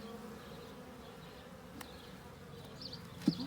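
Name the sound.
honey bees buzzing in an open hive during inspection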